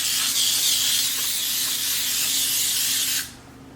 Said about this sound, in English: I'm gonna grab my Baker's Joy and we're gonna spray that well